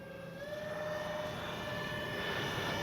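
Twin 30 mm ducted fans on an RC Horten 229 jet whine steadily at less than half throttle, a close, even rush of air with a sustained high tone rising slightly over a few seconds.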